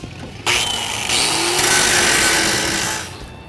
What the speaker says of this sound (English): grind some of the paint off where the old track bar was